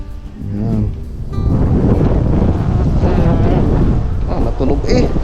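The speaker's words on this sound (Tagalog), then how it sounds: "Ito lang talagang kalaban mga kautol dahil malakas yung hangin" Strong wind buffets the microphone outdoors at a seaside spot, a loud continuous low roar with gusty surges, with brief talk near the start.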